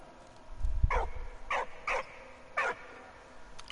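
A dog barks in the video game Valiant Hearts with four short, sharp barks spaced irregularly, after a low thump, set against a quiet background.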